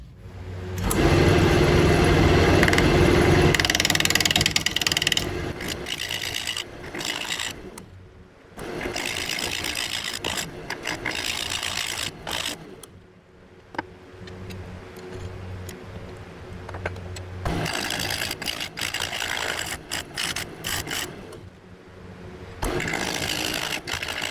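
A wood lathe runs steadily as a tool cleans up the outside of an odd-shaped crab apple bowl, making a loud continuous whir with rough scraping bursts and brief dips.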